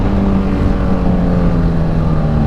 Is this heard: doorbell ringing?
no